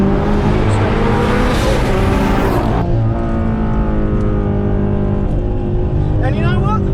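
Turbocharged Subaru Outback XT wagon making around 450 wheel horsepower, revving hard as it pulls through first and into second gear, a loud, steady engine roar with a brief shift break, with someone talking over it.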